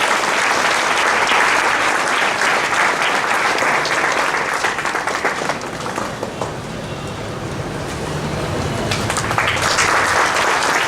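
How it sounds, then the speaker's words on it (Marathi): Loud, dense applause from an audience at a school gathering and science laboratory inauguration, steady clapping filling the whole stretch with a slight dip midway before swelling again. "सर्वांनी जोरदार टाळ्या वाजवायच्या."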